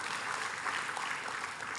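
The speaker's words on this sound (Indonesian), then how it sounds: "Berikan tepuk tangan buat Tuhan Yesus." Church congregation clapping together in a steady, even burst of applause, fairly faint and without speech.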